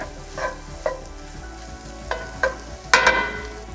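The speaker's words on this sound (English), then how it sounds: "So give this another stir. You don't want to burn the garlic." Garlic frying in a pan for shakshuka is stirred in a few distinct scraping strokes, spaced out over a steady low sizzle, with a louder clatter of the spoon near the end.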